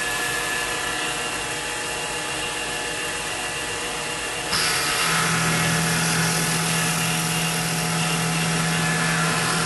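A CNC machine runs a machining procedure with a steady, loud mechanical whir and hiss. Midway it abruptly steps up in loudness and adds a sustained low hum, then continues evenly with no talk.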